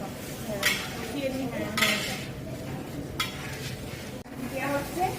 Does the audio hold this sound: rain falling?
no